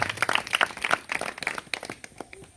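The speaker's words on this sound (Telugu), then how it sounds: "గట్టిగా చప్పట్లు కొట్టు ప్రభు." A small gathering at a house clapping after a sermon, scattered hand claps in an uneven patter that thins out toward the end.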